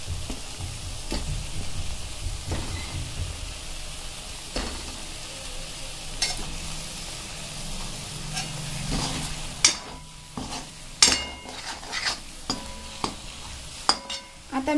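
Fried eggs being stirred into sizzling masala in a pan for egg curry, with steady frying hiss and scraping spoon strokes, followed by sharper clinks and knocks of utensil against the pan toward the end.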